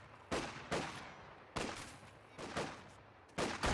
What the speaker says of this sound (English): Note that you can even see all 4 models firing out of these windows.